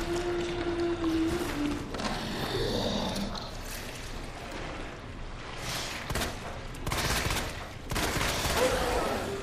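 Gunshots from the video game Resident Evil 2 ring out in several loud bursts, mixed with rumbling game sounds and creature noises.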